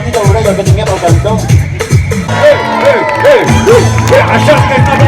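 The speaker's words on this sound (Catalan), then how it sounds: "Això és que és un aplaudiment!" An audience at a children's magic and entertainment show cheers, whoops and shouts loudly in a lively continuous din, with children's voices rising in repeated bursts and a voice talking over the noise.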